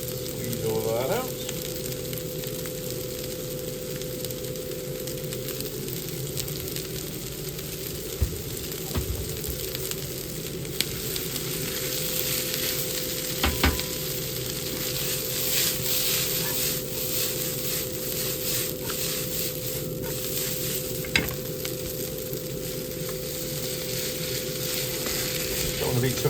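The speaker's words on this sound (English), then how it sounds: "I'm going to put the soy, ginger and garlic yakisoba stir fry." Yakisoba stir fry with soy, ginger and garlic sizzles steadily in a hot pan, a continuous close frying hiss broken by occasional stirring clatter.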